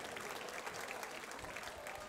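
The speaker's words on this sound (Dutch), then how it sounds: "geven ze daarvoor een applaus voor Dennis" A crowd claps steadily, a dense wash of applause at a moderate distance with no pauses, at a schlager festival in Kermt in 2019.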